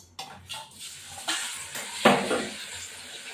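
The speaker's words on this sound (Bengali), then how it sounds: "পনিরগুলো আগে ভাজছি" Short bursts of sizzling as paneer pieces drop into hot oil, with clinks and scrapes of a utensil against the pan, close and intermittent.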